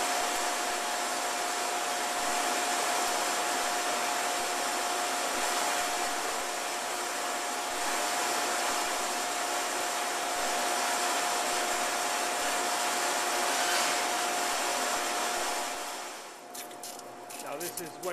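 A Hansvedt DS-22 wire EDM machine running, a steady loud hiss with a constant high tone, ending in a few irregular crackles as the noise drops near the end.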